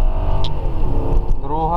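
A Lexus LS 430 (UCF30) with automatic gearbox and LPG conversion accelerating hard, the engine note climbing steadily and loud up close, with a short upshift near the end.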